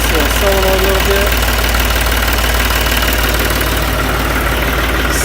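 A tractor engine fires up and settles into a loud, steady idle with a rough, knocking rumble close by.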